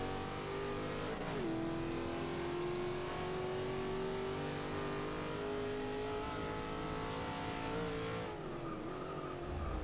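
In Forza Motorsport 7, a race car engine is held under heavy throttle. It makes a sustained, loud, droning whine that dips briefly near the start and again toward the end, then settles at a steady pitch, with no voices.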